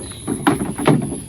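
A wooden rowing boat moves along a rural canal in the rainy season, with two soft splashing strokes of the oar in the water, close and fairly quiet, and no talking.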